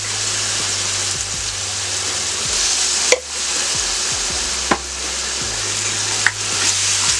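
Garlic and onion sizzle and fry loudly in a pressure cooker, with a steady crackling hiss, a low hum underneath and a few sharp scrapes as the pot is stirred.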